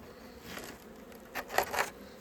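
Steady buzzing of honeybees close by at a full, open hive, a low insect hum that swells briefly with a few louder passes.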